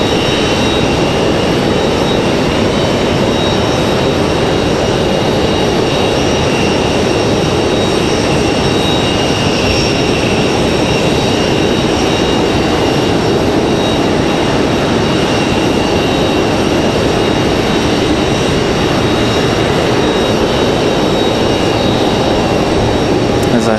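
Jet engines of an American Airlines Boeing 777 at Raleigh-Durham roar loud and steady, a dense continuous rumble with a high whine on top, sustained for the whole stretch.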